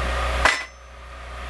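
A single sharp, ringing hammer strike lands on a still-warm forged steel axe head braced against a welded-on block, then the ring dies into a quiet workshop.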